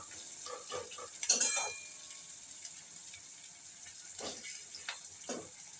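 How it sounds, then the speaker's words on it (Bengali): Onion pakoda fry in a pan over a medium gas flame, a quiet steady sizzle broken by occasional spoon scrapes and a brief louder clatter early on, near and fairly soft. "এটাকে বেশ খানিকটা ভাজবো, খুব যে ব্রাউন করতে হবে তা কিন্তু নয়।"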